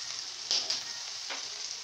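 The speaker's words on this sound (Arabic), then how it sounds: "صافي نبقى نقلب فيهم حتى يولي لونهم ذهبي" Food fries in hot oil in a pan, giving a steady bright sizzle with a couple of sharper crackling pops, close and moderately loud with no voices.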